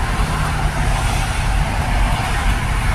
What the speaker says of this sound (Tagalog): walang kamatayang traffic